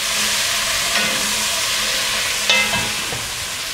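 Onions and butternut squash sauteing in a pot for pozole, giving a steady close sizzle and hiss with a few soft stirring clicks and scrapes throughout.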